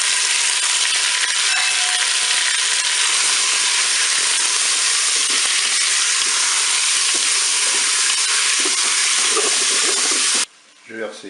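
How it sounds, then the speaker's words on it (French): Meat and onions brown in a preheated Cookeo multicooker pot, producing a loud, constant, close-up sizzle that runs unbroken for about ten seconds before cutting off abruptly. "le préchauffage est terminé, je vais pouvoir faire revenir ma viande"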